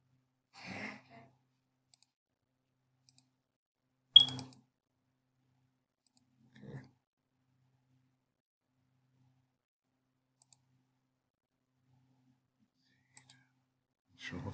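One sharp computer mouse click to open a file breaks a near-silent room, with a few soft breaths scattered before and after it.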